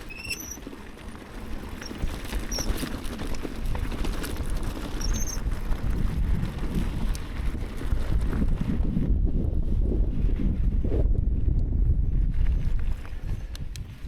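Cold wind on a mountain ridge while bikepacking, a loud, steady buffeting roar of gusts against the microphone that lasts throughout, with no voices.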